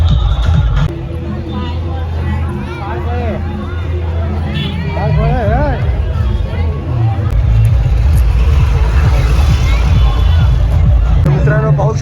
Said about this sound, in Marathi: मित्रांनो पाहू शकता तुम्ही खूप जास्त गर्दी आहे महाशिवरात्री निमित्ताने